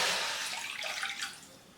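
Water pours steadily into a kadhai, a close, continuous splashing gush that gradually softens.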